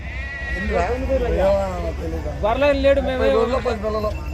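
Sheep bleat repeatedly at a busy sheep market in Gudur, several wavering calls overlapping close by, with people talking in the background throughout.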